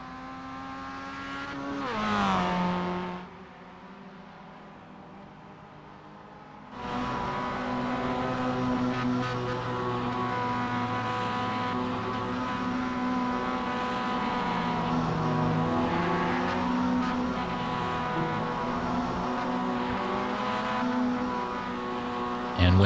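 Race cars lapping Laguna Seca in the iRacing sim, a high whining engine drone that rises and falls through revs and gear changes, briefly quieter before a sustained loud stretch of several cars running together.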